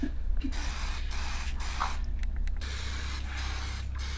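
Spray paint in yellow and red dusted onto clothing, a steady hissing spray with short pauses between bursts over a low background hum.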